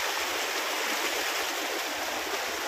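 A shallow stream near Lonavala rushes steadily around wading feet, a dense, even wash of flowing water close by with no talk.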